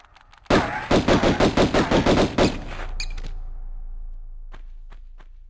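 Rapid burst of about a dozen loud, evenly spaced gunshots from a pistol in Tomb Raider 1, followed by a trailing reverberant decay and a few faint clicks.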